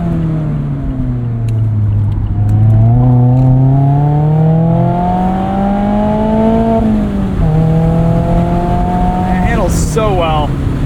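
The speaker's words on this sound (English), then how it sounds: "Great throttle response here from the ND3." A Mazda MX-5 Miata ND3 engine revs hard under throttle from inside the car, its tone climbing through the gears with quick shifts and a loud, close, continuous drone, with a voice talking over it.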